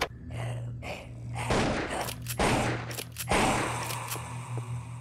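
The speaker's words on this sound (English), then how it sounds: "Okay, so we just gotta use the shotgun on these things." Loud shotgun blasts and heavy impacts in the survival horror roguelike Anglerfish, several sharp bursts over about five seconds mixed with thumps and scraping, with no talking.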